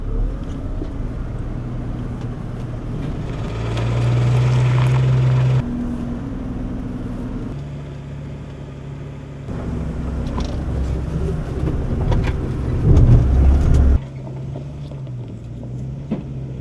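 An IVECO Eurocargo 4x4 truck crawls through an off-road obstacle in low range first gear with diff locks engaged, its diesel engine droning loud and close, the pitch and load rising and falling, with wind buffeting.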